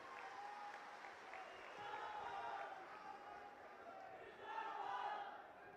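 A crowd at a political rally in Ratlam, Madhya Pradesh applauds to welcome Rahul Gandhi, the clapping distant and faint, swelling and easing in waves over a dull crowd murmur.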